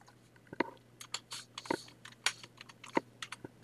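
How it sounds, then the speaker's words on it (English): Computer keys are tapped in short irregular bursts, crisp and close but quiet, a handful of distinct clicks spread across a few seconds with no talking. "And I'm going to type the word,"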